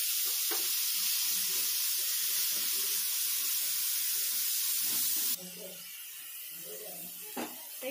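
Onion with ginger-garlic paste and cumin hitting hot oil in a pan, a steady loud sizzle and hiss that drops to a quieter bubbling fry partway through, with faint stirring clinks.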